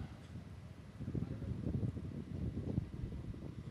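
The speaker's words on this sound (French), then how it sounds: "Il y a un petit peu de vent là." Wind buffets an outdoor archery range, a low gusty rumble that swells and eases against the microphone with no one talking.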